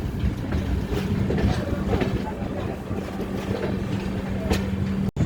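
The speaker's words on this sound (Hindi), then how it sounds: "इसको हमारी ट्रेन 1 2 3 4 5 सरायघाट एक्सप्रेस डिपार्ट कर रही है।" Saraighat Express pulling out of Rampurhat Junction, a loud steady rumble of rolling carriages with faint rhythmic clatter, heard nearby on the platform with some voices in the background.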